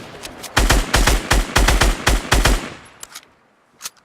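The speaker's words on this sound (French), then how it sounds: "Là il va me foutre quand même quelques balles." Automatic gunfire in the video game Fortnite: a loud, rapid burst of about a dozen shots in steady rhythm, followed by a few scattered single shots that fade off, with no talking.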